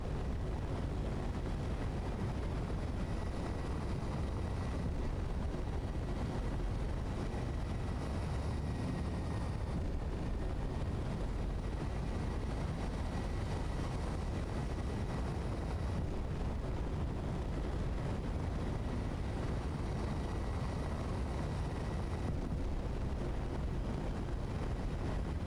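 An atmospheric thruster running in a video game, a steady broadband roaring rush that holds constant and loud for the whole stretch with no talk over it.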